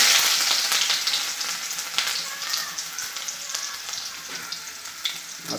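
Ginger dropped into hot oil in a home kitchen pan, a loud close sizzle with fine crackling and a few spatters and stirring knocks, gradually settling but staying continuous, no voices.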